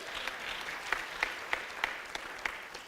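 Conference audience applauds at a biodiversity economy and investment gathering, producing soft, steady clapping with a few sharper claps standing out at regular intervals.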